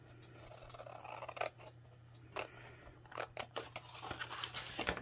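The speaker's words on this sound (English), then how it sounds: "Now I'm going to turn my paper again. I'm going to cut up, and now I'm going to remove all these squares." Scissors cut paper along score lines in quiet close-up. Soft snips and rustles come in uneven bursts over a low steady hum.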